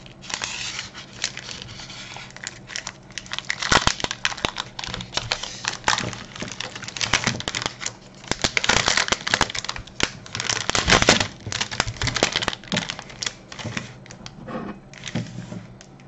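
Crinkly plastic wrapper of a Rossiya Shchedraya Dusha coconut chocolate wafer bar being torn open, with close, irregular crackling bursts that swell and fade over about sixteen seconds, no talking.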